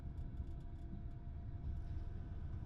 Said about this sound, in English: our train can begin accelerating